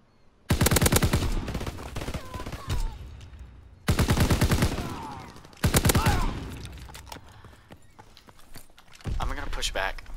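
Bursts of automatic gunfire crackle loudly in a WW2 first-person shooter match, coming in four separate volleys of rapid shots, with brief quieter gaps between them.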